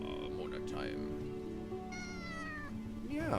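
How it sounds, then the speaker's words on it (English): A cat named Mona gives a couple of short, squeaky meows, one early and a clearer rising one mid-way, fairly quiet and close, with a person speaking softly around them. "What a cute little meow squeak that was."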